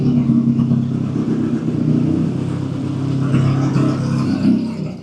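A race car engine runs at close range, a loud, steady rumble with rough low-pitched throbbing, small swells in revs and a slight clatter, with no talk.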